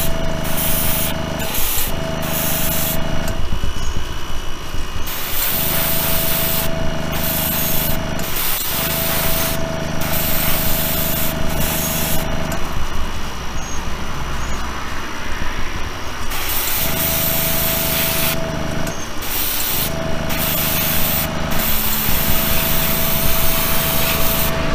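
An airbrush sprays Spaz Stix color shift green-purple-teal paint onto a model car body, a continuous close hiss that cuts off and restarts in short bursts with brief pauses between passes, no talk.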